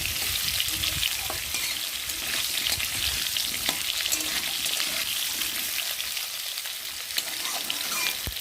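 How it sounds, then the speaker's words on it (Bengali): Potatoes fry in a pan with sizzling that stays dense and close throughout. Occasional scrapes and taps from a spatula break through the crackle. "আলুটা একটু ভালো করে ভেজে নেব।"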